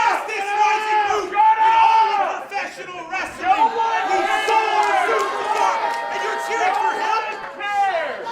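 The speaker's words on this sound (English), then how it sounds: "I don't think this great crowd here in the Action Building's having any of this" A wrestling crowd packs the Action Building, jeering and chanting in a steady loud roar with scattered yells and whistles.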